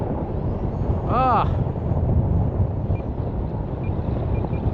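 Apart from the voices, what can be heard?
strong wind blowing on a flying field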